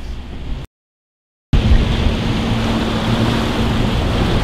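Loud, continuous rushing of wind and choppy water from big waves on a lake, with a fishing boat engine droning beneath; a brief cut of silence interrupts near the start.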